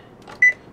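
An oven control panel gives a single short, clear electronic beep when set to 350 and started, close and loud against a quiet room.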